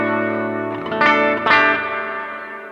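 An electric guitar runs through a pedal board with a delay and a big hall reverb. Sustained notes and a couple of strummed chords ring out and wash into a long, swelling tail, heard alone with no talking.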